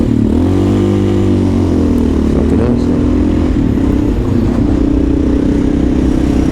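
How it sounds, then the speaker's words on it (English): A Honda XR650L motorcycle with a loud exhaust and a Lexx silencer revs hard close by. Its deep engine note rises and falls through a thick, continuous drone, with some voice mixed in underneath. "you got that louder exhaust that just gets you riled up"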